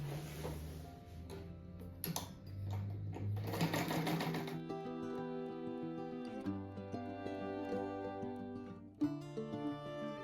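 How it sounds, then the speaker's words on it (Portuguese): A sewing machine stitching fabric strips onto a laundry rug, its fast steady needle rattle heard up close in runs, with background music playing throughout. "Vou costurar mais uma faixinha de 3 centímetros cada lado"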